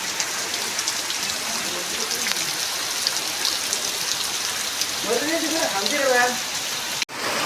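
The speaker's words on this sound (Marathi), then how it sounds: "आता तर अजून पावसानं जोर घेतला आहे" Heavy unseasonal May rain pours down steadily in a dense, even hiss of drops drumming on surfaces. A voice speaks briefly under the downpour near the end before a sudden cutoff.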